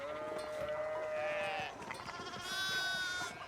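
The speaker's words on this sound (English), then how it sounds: "Got a lot of sheep going on here." Sheep in the medieval video game Pentiment bleat in a couple of drawn-out, wavering cries, one after another, fairly faint against a quiet background.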